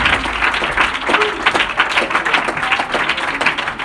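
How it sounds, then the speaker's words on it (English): A church congregation claps along in rhythm, a loud steady run of hand claps with crowd noise and voices mixed in. "Let's clap our hands to Jesus."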